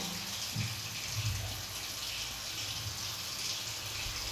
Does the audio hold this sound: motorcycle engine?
no